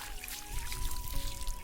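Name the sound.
water being poured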